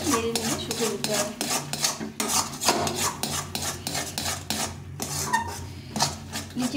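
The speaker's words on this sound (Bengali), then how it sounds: "খুব ভালো করে নেড়ে নেড়ে শুকিয়ে দিতে হবে।" A semolina barfi mixture is stirred and scraped in a pan with a rhythmic, gritty rasping. The strokes repeat steadily and sit close and fairly loud, with no speech.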